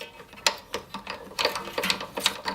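A string winder cranks a steel string onto an acoustic guitar tuning peg, giving quick bursts of ratcheting, clicking rotation in uneven spurts, close up and fairly quiet, with no talking.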